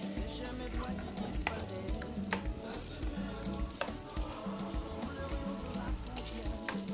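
Cooked fumbwa (wild spinach stew) is stirred in a pot just off the heat, a busy, continuous sizzle mixed with wet scraping and clicking strokes of the spoon, fairly loud and close, without speech.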